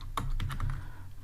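Several crisp computer keyboard keystrokes in quick, uneven succession, close and fairly quiet, with no voices.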